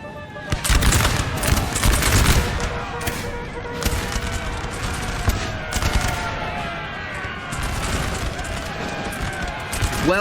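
Artillery and musket fire from a Napoleon Total War battle: dense, continuous volleys of gunfire crackle and boom over a loud battlefield din, with crackling shots layered throughout.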